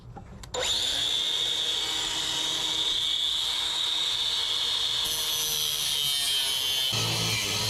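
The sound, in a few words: cutting off metal mounts under a Honda CRX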